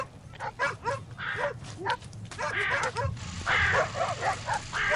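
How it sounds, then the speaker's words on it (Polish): A dog barks in short repeated bursts throughout, fairly close and steady, with some background noise and a faint voice now and then. "niech on się odszczekuje swoim prześladowcom z pańskiego dworu"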